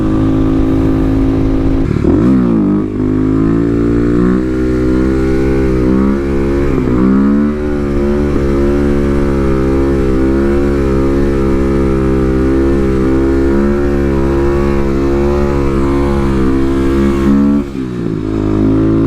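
A Kawasaki KLX250SF supermoto motorcycle accelerates hard in second gear, its loud single-cylinder engine note climbing steadily up close, with a brief dip near the start and again before the end.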